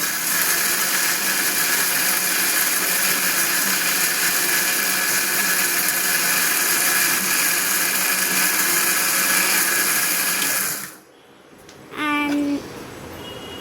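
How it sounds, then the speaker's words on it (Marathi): An electric mixer grinder blends batter with added water, a loud steady motor whine for about eleven seconds, then it cuts out and briefly spins again. "मग परत मिक्सरला लावायचं."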